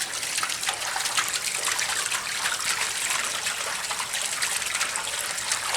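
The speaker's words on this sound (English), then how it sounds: "you have a little geyser filling the table up" Water gushing steadily into a plasma cutting water table from a small geyser-like inlet, a loud continuous splashing rush that runs unbroken throughout.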